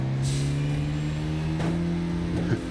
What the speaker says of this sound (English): Almost sounds like a lawnmower with air brakes